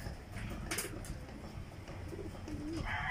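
Pigeons kept as breeders coo softly nearby in a loft, low murmuring calls under faint background noise, with a brief higher sound at the end.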